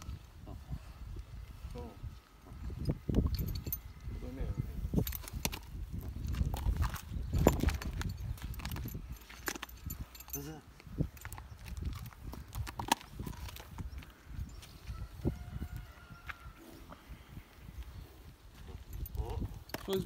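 Hooves of a Percheron mare knock and shuffle on hard ground at a horseshoeing, with irregular clip-clops at close range under men's conversation.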